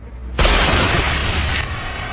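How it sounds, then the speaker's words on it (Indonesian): A flare pistol fired, a sudden loud whooshing burst that roars steadily for over a second before cutting back to a lower rumble. "kapten akan menembakkan pistol suar untuk menandai lokasi akuratnya."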